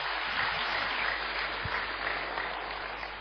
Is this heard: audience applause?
yes